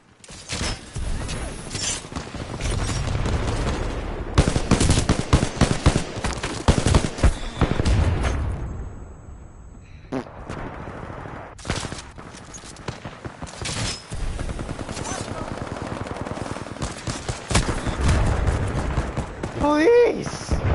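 Weapon fire in the video game Titanfall 2 comes in rapid, loud bursts of shots with brief pauses, mixed with game effects while a player talks excitedly.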